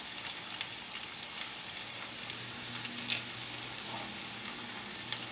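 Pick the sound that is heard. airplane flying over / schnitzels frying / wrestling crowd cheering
schnitzels frying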